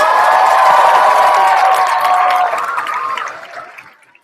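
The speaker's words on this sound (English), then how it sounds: "you can give yourself a round of applause" Audience applause and cheering from a large student crowd at a Soonerthon 2015 event, loud and sustained for about two and a half seconds before fading out.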